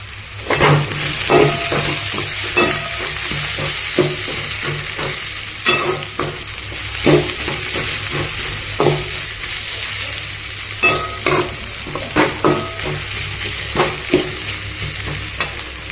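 Onion and coriander sauté in a pan for pepper chicken, giving a loud, continuous sizzle broken by frequent, rhythmic spatula scrapes and taps close by.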